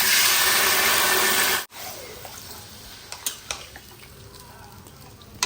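Mutton biryani meat with tomato puree being stirred and sautéed in a pan: after a loud burst of frying noise cuts off, soft scraping and a few sharp utensil clinks against the pan follow, close and fairly quiet.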